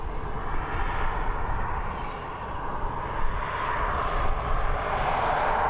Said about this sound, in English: I think our next departure is going to be this Malta air flight heading over to Milan